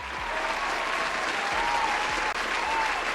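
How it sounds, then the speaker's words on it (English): Steady, dense applause from a crowd, continuous and fairly loud throughout with no pauses or talk over it. "Give him a round of applause."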